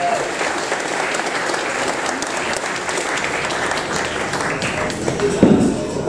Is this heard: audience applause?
yes